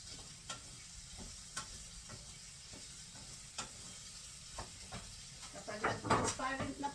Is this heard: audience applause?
no